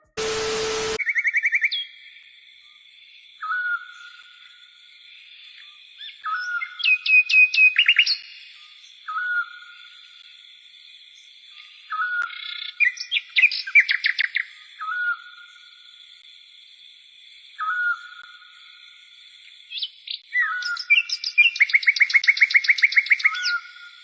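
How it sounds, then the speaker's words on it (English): Outdoor birds call in short repeated chirps and bursts of trills, with several singers overlapping at fairly close range, loud and clear, and a steady high tonal chirp running underneath throughout. "We don't feed the birds over here."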